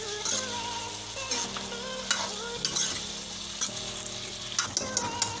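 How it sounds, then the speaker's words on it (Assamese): Goat meat curry with potatoes sizzles and fries steadily in a pan while a spoon stirs and scrapes through it in bursts, close and moderately loud with no talking. "এতিয়া আলু দি দিম। অকণমান লৰাই সিজিবলৈ আকৌ ঢাকি দিম।"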